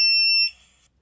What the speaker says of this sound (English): will sound a singular audible beep